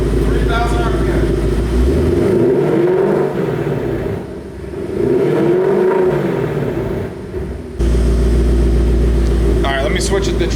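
2018-2021 Ford Mustang GT exhaust in sport mode revving to 3,000 RPM: loud, near, deep rumbling with two rising revs that swell and fall back to idle, and a voice talks briefly at the start and end.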